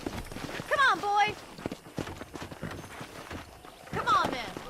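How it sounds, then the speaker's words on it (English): Horse hooves clip-clop in a Western video game, a short run of hoof beats mixed with voices talking and game sounds. "I picked out a fine horse for you."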